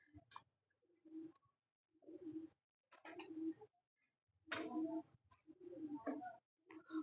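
Rooftop pigeons kept for racing coo in repeated low, throaty phrases with short pauses between them, close and fairly clear over a quiet background.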